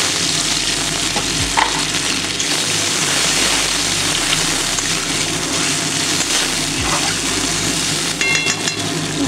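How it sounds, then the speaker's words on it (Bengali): Water goes into a hot pan of mustard, poppy seed and green chilli paste for a pabda fish curry, a steady loud sizzle and bubbling hiss running throughout with a few soft clinks. "জল দিয়ে দেবো।"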